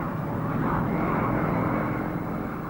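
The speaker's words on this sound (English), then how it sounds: "Soviet cargo planes continued bringing in heavy battle equipment." Soviet cargo planes flying overhead during the August 1968 occupation of Czechoslovakia, a steady, loud low engine drone that holds constant throughout with no talk.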